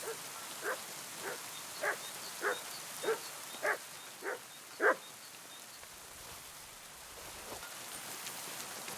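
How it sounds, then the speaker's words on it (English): A dog barks seven times at an even pace in the video game Kingdom Come: Deliverance II over soft rain-like background noise, then the barking stops and only the faint hiss remains. "What are you barking at?"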